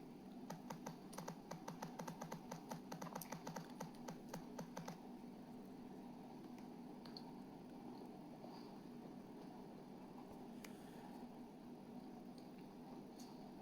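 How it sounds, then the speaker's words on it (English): Rapid, steady clatter of fingers typing on a computer keyboard, close and fairly quiet over a low background hum, busiest at first before thinning to occasional taps. "I don't know who she's talking to, who she's typing to."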